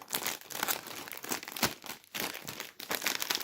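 Crinkly plastic snack bag of Lulu Puffs being handled and torn open close up, with steady rustling and sharp crackling bursts throughout, no voices.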